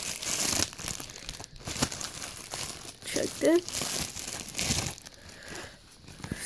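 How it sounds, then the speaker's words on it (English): Plastic crinkles and rustles in bursts, close up, while a person talks over the handling. "this is plastic bag over here"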